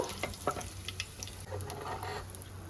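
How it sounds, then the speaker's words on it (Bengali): A dried red chili, cumin seeds and whole coriander seeds crackle in hot oil, with small pops and spatula scrapes in short bursts over a soft, close sizzle. "এই তেলের মধ্যেই একটা শুকনো লঙ্কা একটু সাদা জিরে আর একটু গোটা ধনে ফোড়ন দিয়ে দিলাম"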